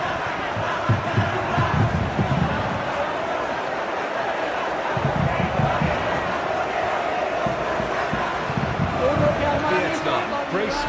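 A stadium crowd roars steadily and loudly throughout a simulated Indonesia vs Vietnam football match in PES 2026, with rhythmic chanting surges and voices over the dense crowd noise.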